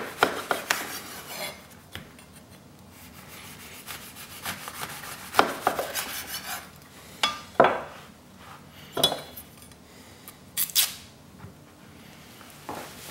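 A knife slices off both ends of a grapefruit on a wooden board, giving a run of scraping, sawing and knocking sounds, close and fairly loud, with irregular bursts and short pauses.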